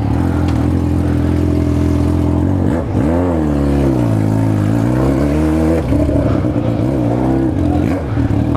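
A motorcycle freshly painted pink revs and pulls away on a city street, its engine note rising and falling in loud, close surges with steady drone throughout.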